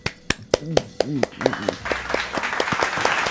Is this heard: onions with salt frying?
no